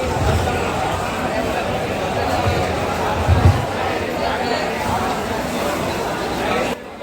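A dense crowd of pilgrims at Gaya, a steady murmur of many voices and shuffling close by, running without a break until it drops off near the end.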